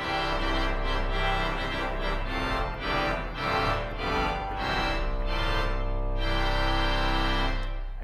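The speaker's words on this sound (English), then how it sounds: "With the 16 and 4-foot coupler, it sounds like this." Trumpet reed stop on a hybrid pipe-and-digital church organ with 16-foot and 4-foot couplers drawn, giving a massive, bright chordal sound; loud sustained chords and moving lines fill the whole stretch without talk.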